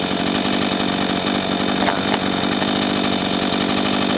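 Redmax GZ400 chainsaw cutting firewood, a loud, steady high-pitched buzzing whine held close to the microphone for the whole stretch, with no talk.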